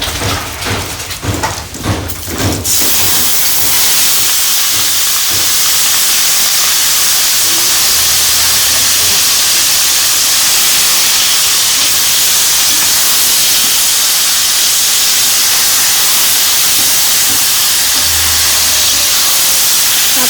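Chopped taro leaves (kochu shak) dropped into a hot, blackened iron wok for a village-style dish with hilsa fish head, bursting into a loud, sustained steamy hiss after a few seconds of clattering, which fills the rest of the clip.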